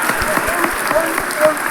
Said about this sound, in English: What are they clapping about?